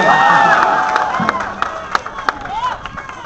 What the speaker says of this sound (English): you can applaud any time when I say Florida